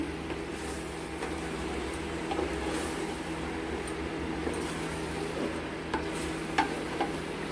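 Chicken cooked with goat fat is stirred in a clay kadai, making a few soft scrapes and bumps over a steady low simmering hum, muted and close.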